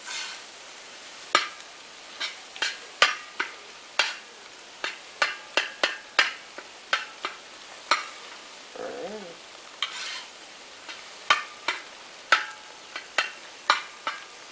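A utensil scrapes and taps repeatedly against a seasoned cooking dish as scrambled eggs are stirred and scooped, in sharp irregular strokes over a faint sizzle, with no talking.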